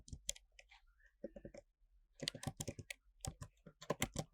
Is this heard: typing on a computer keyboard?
yes